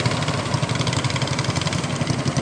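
A boat engine on the Kahayan River runs at a steady mid-pitched throb with slight vibration, loud and close, no voices.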